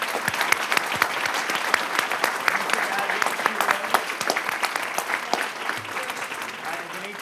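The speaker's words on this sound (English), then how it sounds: "Let's give all of these retirees a big clap." Retirees are honored at a regular board meeting with sustained applause from the crowd, a dense and steady patter of many hands that eases slightly near the end, with faint voices mixed in.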